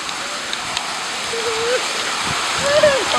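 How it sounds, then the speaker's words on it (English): Steady rain hisses in the background, with a few faint tonal sounds and rustles over it. "Get out of the rain."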